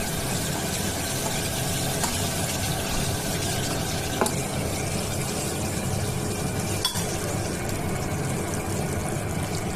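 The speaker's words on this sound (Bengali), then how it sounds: "এবার ওই চিংড়ি মাছ ভাজা তেলের মধ্যে আরেকটু আমি সর্ষের তেল দিয়ে দেবো" Mustard oil is poured into a pan that still holds the hot oil left from frying prawns, giving a steady, loud hiss and trickle for the whole stretch with a few faint clinks and no talk.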